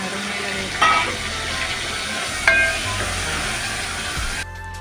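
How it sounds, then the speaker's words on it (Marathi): Garlic and tomato fry in hot oil in a pan, a steady low sizzle with two brief louder bursts, a faint hum underneath and a short click at the end. "लसूण भाजल्यावर त्याच्यामध्ये टोमॅटो टाकूया।"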